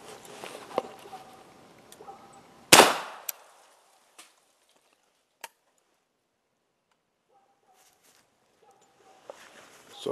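A single-shot .357 Magnum rifle fires once: a sharp, loud report with a quick decay, set among faint clicks and light handling noise, followed by near silence.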